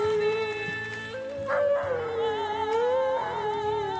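A dog howls in long wavering tones along with a song, its voice sliding up and down over the music, loud and close.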